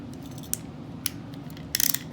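A Victorinox Sport Ratchet's selector is turned, giving a few sharp isolated metallic clicks followed by a quick burst of rapid ratcheting ticks, close and crisp over a quiet room hum.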